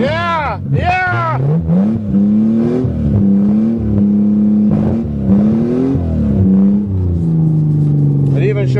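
An old Toyota Cressida's engine runs roughly and revs unevenly, surging up and down at close range while someone talks and shouts over it.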